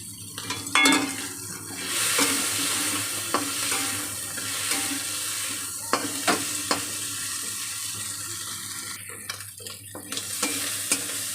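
Prawns fry in a pan with a steady sizzle, punctuated by sharp clinks and scrapes of a spoon stirring against the metal, close and continuous with no talking.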